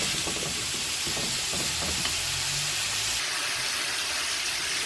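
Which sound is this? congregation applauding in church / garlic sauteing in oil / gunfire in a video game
garlic sauteing in oil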